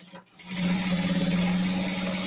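A sewing machine runs fast through fabric and a plastic book case, starting after a brief pause and then a steady, close whirring buzz of rapid stitches.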